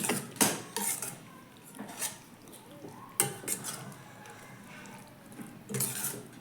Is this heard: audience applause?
no